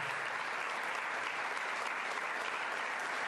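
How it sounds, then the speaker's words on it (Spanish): Congregation applause at a church event in Argentina, a dense, even roar of many hands clapping at a steady level throughout, with no voices standing out. "A ver, fuerte aplauso al Señor"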